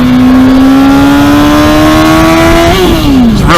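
A Honda CBR 600RR sport bike accelerates hard through its power band, a loud rising engine whine climbing steadily in pitch for nearly three seconds before the revs drop away at a shift.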